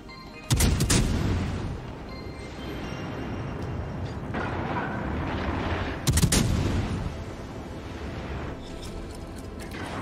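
Battleship main guns fire in World of Warships Legends, heard as two heavy booming salvos several seconds apart. Each blast is loud and rolls with a rumbling tail, and a dense low battle rumble continues between them.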